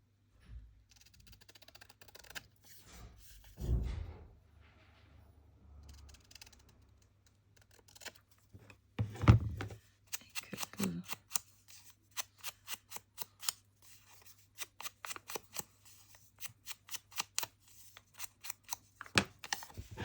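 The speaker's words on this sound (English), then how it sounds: "Let me just sort of cut the borders." Paper borders being trimmed with scissors, a few snips early on, then a run of short, crisp clicking cuts that grows steadier and denser toward the end, close by with no voices.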